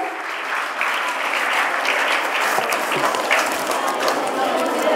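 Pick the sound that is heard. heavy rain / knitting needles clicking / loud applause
loud applause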